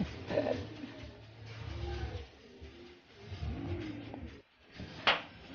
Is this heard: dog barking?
no